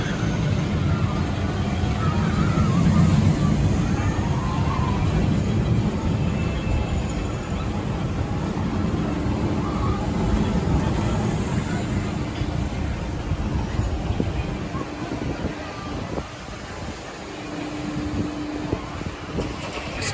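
Riding the Corkscrew roller coaster at Valleyfair amusement park, where a constant loud roar of wind and rumbling track noise fills the ride, with faint voices mixed in beneath the rushing noise.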